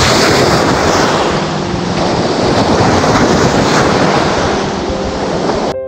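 Sea waves at the shore of a beach resort in Masbate, a loud, continuous roaring wash mixed with wind buffeting the microphone, no voices.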